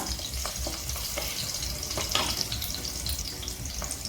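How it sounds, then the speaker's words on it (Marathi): Green chilies sauté in a pan for a dry fenugreek leaf dish, giving a soft continuous sizzle with occasional light stirring scrapes, fairly quiet and close. "मिरची आपण हलकीशी परतवून घेऊया"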